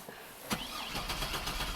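A GMC Sonoma truck engine cranks briefly, catches with a sharp start, then settles into a steady close running rumble.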